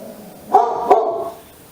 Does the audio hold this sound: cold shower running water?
no